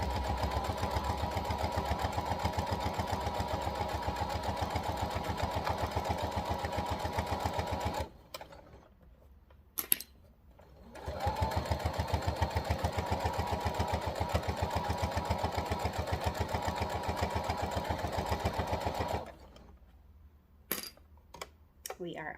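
A sewing machine runs in two steady bursts of rapid, even stitching through fabric for a key fob, each several seconds long and separated by a quiet pause with brief small clicks, close and fairly loud.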